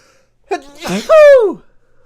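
A single loud sneeze, a sharp intake followed by an explosive burst, close to the microphone in otherwise quiet surroundings.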